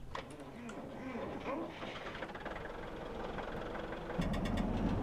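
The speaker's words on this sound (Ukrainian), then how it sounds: "Так, заводимо трактора" An MTZ-892.2 tractor engine in Farming Simulator 17 cranks and settles into a low, rumbling idle, quiet at first and then swelling to a heavier, louder drone near the end.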